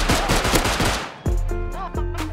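Rapid automatic gunfire in the survival video game Rust, a dense burst of loud close shots followed by a few more spaced single cracks and metallic reload clicks.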